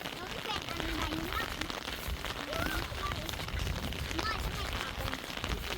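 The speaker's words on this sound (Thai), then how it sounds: "ฝนตกลิ้น" Heavy rain pours down steadily outdoors on a rainy day in rural Thailand by rice paddies, a dense, continuous hiss of drops hitting surfaces throughout, with a voice faintly audible beneath it.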